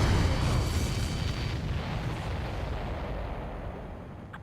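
Missile explosions in the Ace Combat 7 flight combat video game, a heavy rumbling boom that swells loudly at the start, then rolls and fades away over several seconds.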